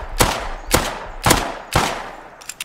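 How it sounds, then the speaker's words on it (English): Four loud gunshots fired at a bear in the survival game Rust, evenly spaced about half a second apart, each sharp crack trailing a short echo, with faint clicks at the end. "If you hear gunshots, it's just me shooting a bear."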